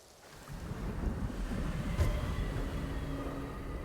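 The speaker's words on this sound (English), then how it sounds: "Kind of windy." Steady wind blowing in Ghost of Tsushima, the 2020 PS5 open-world action-adventure game: a broad continuous rushing gust that swells after a quiet start and holds level, with no talk.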